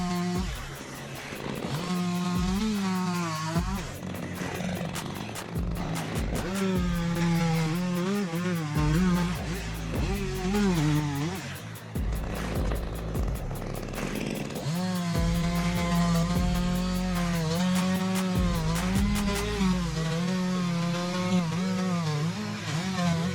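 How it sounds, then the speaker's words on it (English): A chainsaw cuts through a large branch of an ancient tree, its engine loud and close, revving and bogging in long sustained passes with short dips between cuts. "While Mr. Tuan was sawing a large branch"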